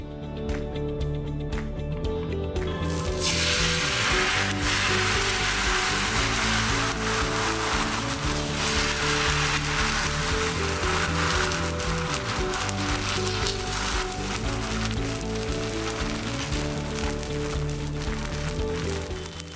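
Amboli batter sizzling on a Ferrol cast-iron dosa tava, a steady, close, continuous frying hiss that rises after a quiet start and holds evenly throughout, with no talking.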